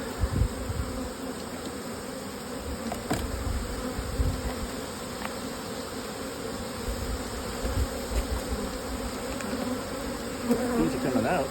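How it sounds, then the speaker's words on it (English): A dense, steady hum of many honeybees buzzing fills the air around the hive, close and continuous, with occasional louder passes near by. "Bees are coming out, but they're not being mean."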